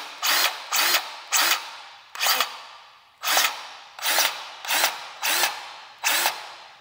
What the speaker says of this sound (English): Pop in our grease gun. All right, we're gonna give it a shot of grease.